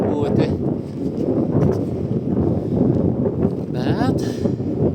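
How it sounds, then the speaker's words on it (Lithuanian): Wind buffets the microphone steadily while a cyclist rides on a tour around the Baltic states, a rough continuous rush with a few brief gusty flutters and no clear speech. "Tai ant to vėja nėra malonu būti."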